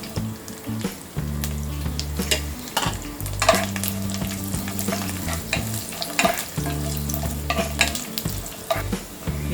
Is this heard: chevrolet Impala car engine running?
no